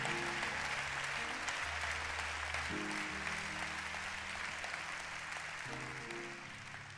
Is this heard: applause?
yes